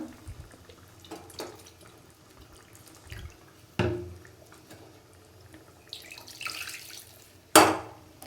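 Water goes into a fish curry pot in short, separate pours and splashes with quiet gaps between, ending in a louder splash, close by and fairly faint.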